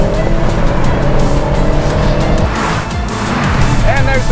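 A Honda Civic Type R and a Subaru WRX STI race on a track, their engines roaring loudly and steadily with tire squeal, while people talk excitedly over the noise.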